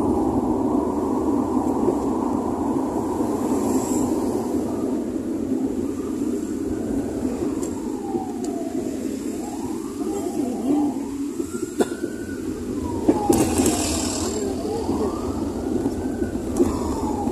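An ambulance siren wails in rising and falling sweeps at a distance, heard over constant traffic rumble and engine noise on the roads of Batam.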